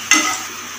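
Panch phoron, a dried chilli and a bay leaf hit hot oil with a sudden, brief burst of sizzling that settles into a softer crackle.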